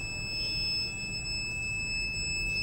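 Fuse-blown indicator alarm on a high-voltage fuse monitoring circuit with Bluetooth and optical isolation, emitting a steady continuous high-pitched electronic tone over a low background hum, unbroken throughout.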